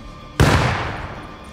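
A single sharp grenade blast in the Rust survival game, erupting suddenly after near-silence with a loud, broadband boom that decays slowly over about a second into a rumbling tail.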